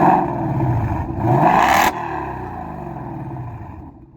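A 2024 Mustang GT with a Milltek active exhaust in its quiet stealth mode, idling as a low burble and then revving, with a rising rev that cuts off sharply and settles back to a subdued idle.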